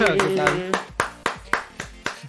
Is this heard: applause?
yes